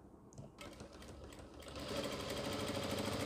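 A sewing machine stitches a ladies' scarf mask, starting with a few soft handling sounds and then settling into a loud, steady, fast whirring run that grows louder and continues to the end.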